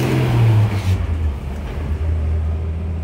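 A car engine starts up and idles steadily, a low loud rumble with a brief rev at the start that settles into a constant hum.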